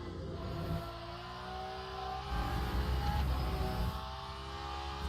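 Hypercars and other racing classes in a multi-class racing video game, a steady engine drone with whining gear tones and a swelling rumble mid-way, moderately loud and continuous.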